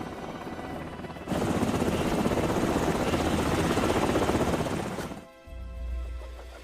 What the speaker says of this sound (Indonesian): Di saat yang sama terlihat 2 helikopter jenis HSC-84 Red Wolf mengudara dan mencoba melakukan kontak radio